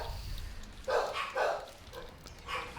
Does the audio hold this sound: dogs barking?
yes